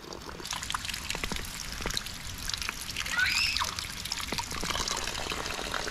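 Water trickles out of a bamboo irrigation pipe in an outdoor spring, a soft continuous dribble and splash close by, with faint background noise.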